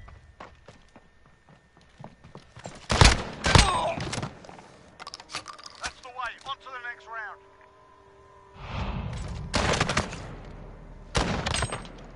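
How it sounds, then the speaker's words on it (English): Gunfire in the Call of Duty Modern Warfare video game: scattered bursts of shots and impacts with footsteps between them, loud clusters early and late, while players talk over the action. "Why does it sound like the gunfire is coming from there?"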